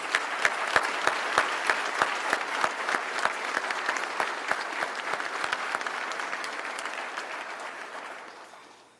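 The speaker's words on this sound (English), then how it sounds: "if we could give a round of applause for all the family and friends that have supported us through this time" Steady applause from an audience at a fire department recruit class graduation, honouring family and friends, with many clear claps over a full crowd wash, sustained for several seconds before fading out at the end.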